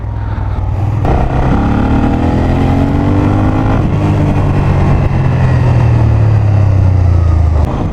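A 36-year-old Suzuki VX800 motorcycle engine drones steadily at close range, its pitch rising and falling as the rider accelerates and shifts through gears.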